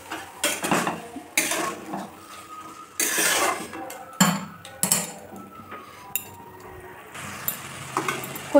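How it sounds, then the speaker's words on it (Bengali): A metal spoon stirs taro leaves with spices in a cooking pan, making irregular clattering scrapes and sharp clinks against the metal in uneven bursts, close and fairly loud, with no talking. "খুব ভালো করে নেড়ে চেড়ে আমার এখানে মিশিয়ে নিতে হবে কচুর পাতার সঙ্গে মশলা"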